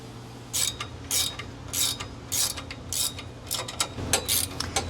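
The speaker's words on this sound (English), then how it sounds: "Now it's wrench time." A wrench ratchets on bolts during the installation of an Air Lift LoadLifter 7500XL air spring kit, giving a run of quick clicking bursts at a steady rhythm over a low mechanical hum, close and moderately loud.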